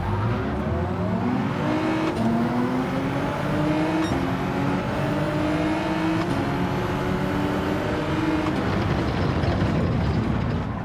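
Toyota Supra race car engine in Gran Turismo 7 roaring loud and steady throughout, its pitch climbing and falling through repeated gear changes, with other cars' engines faintly mixed in.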